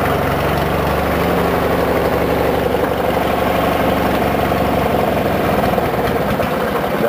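A 1997 Murray 18 hp riding mower with a 46-inch cut idles cold, its small engine giving a loud, steady close chug with a slightly uneven, knocking throb the whole time.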